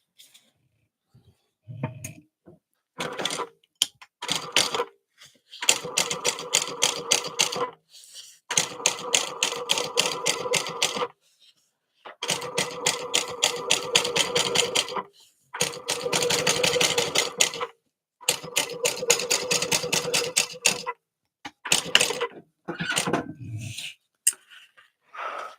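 A sewing machine top stitches a passport wallet with the back set under the sides, running in several steady bursts of rapid stitching separated by short pauses.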